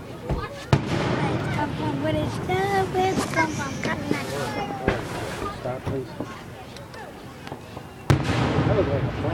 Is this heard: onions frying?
no